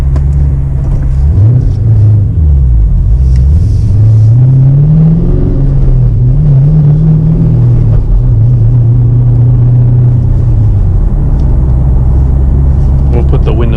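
A twin turbo Camaro drives with its engine rumbling loudly inside the cabin, pitch rising and falling through gear changes and throttle, while someone talks over it.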